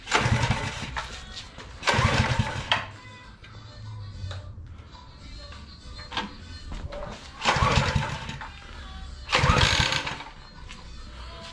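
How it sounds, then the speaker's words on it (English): A gasoline go-kart engine, built at home, cranking and catching in several loud roaring bursts with a rougher running idle between them, close by. Voices are heard faintly in the background. "So this is the engine guys, we're gonna test it out right now, hopefully it works."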